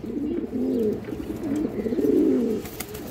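Big male pigeons coo steadily in a loft, a deep throaty rolling call repeating in overlapping phrases for several seconds, close and fairly loud with no voices.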